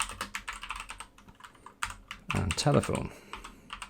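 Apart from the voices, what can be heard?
computer keyboard typing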